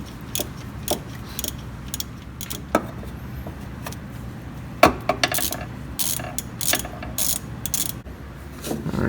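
A ratchet clicks in short bursts while loosening the starter bolt on a 2005 Toyota Tacoma Standard Cab, with a few sharper metallic knocks and scrapes against a low workshop background.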